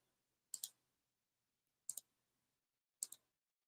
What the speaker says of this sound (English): I'm clicking all over the place